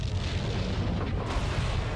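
A heavy, rumbling explosion sustained for a couple of seconds as a space monitoring station is destroyed in the Star Trek game Klingon Academy, with a dense low roar and no speech.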